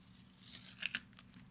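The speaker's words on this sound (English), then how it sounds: "that's like the best tape peel I've ever had" Tape is peeled off a surface in one short, quiet ripping pull with a couple of crisp snaps near the end, set against a low background hum.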